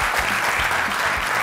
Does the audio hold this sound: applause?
yes